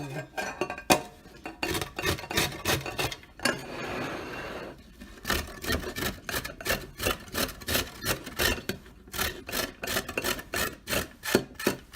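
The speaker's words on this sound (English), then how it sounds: "just grate the carrots in your plate like so. So I'm going to keep grating this" Carrots rubbed against a hand grater in quick, steady scraping strokes, close and fairly loud, with a short pause partway through before the rhythmic rasping resumes, no voices.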